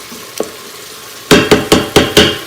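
Garlic sautés in an Instant Pot, heard as a quiet sizzle followed by five rhythmic, loud scraping strokes of a utensil against the pot, close and with no voices.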